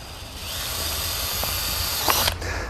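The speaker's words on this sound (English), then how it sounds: "taking his cordless drill, he's going to make the appropriate holes for the operating box." Cordless drill boring holes to mount an operating box, a continuous high whirring motor that holds steady, then surges briefly near the end before easing off.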